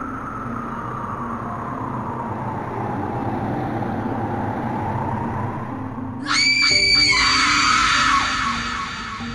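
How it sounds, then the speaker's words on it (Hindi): Screaming and shouting burst out from a room in a horror game, following a low rumbling drone; the shrill, harsh cries come suddenly and loudly before tapering off. "तभी सामने से चीखने चिल्लाने की आवाज आने लगती है"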